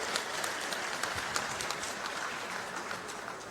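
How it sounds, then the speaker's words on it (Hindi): Large crowd at a political rally in Dehradun applauding, steady dense clapping from many hands, fairly distant and even throughout. "एक बार जोरदार तालियां बजाकर आप सब लोग स्वागत करेंगे"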